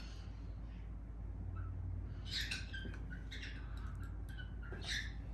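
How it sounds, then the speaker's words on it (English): A pet bird squawks for attention in a home kitchen, giving several sharp, bright calls in short clusters over a steady low background hum, with no talking. "And that's my bird. He's trying to get some attention"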